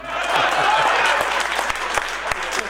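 An audience at a Hindi comic poetry recital claps in a dense burst that gradually thins toward the end, with faint voices underneath.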